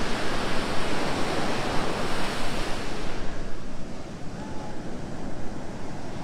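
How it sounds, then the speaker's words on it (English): Ocean waves at a beach in Los Angeles, loud continuous surf wash with steady roar and some wind buffeting, heard alone without talk. "finally made it to a beach."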